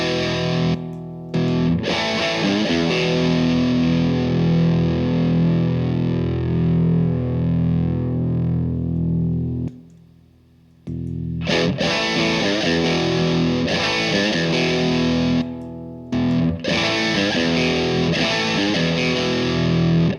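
Electric guitar driven hard through PastFx TD-Y and Buffalo FX TD-X overdrive pedals with the knobs cranked, playing loud, thick distorted chords and riffs with sustained ringing passages broken by a couple of short pauses.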